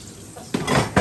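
Dishes and cutlery clatter in a kitchen sink as someone washes up after cooking a soup, with broadband rinsing noise building in two short loud bursts.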